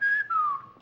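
A two-note wolf whistle aimed at a dress, a bright rising tone followed by a longer falling one, close and clear within under a second, with no talking.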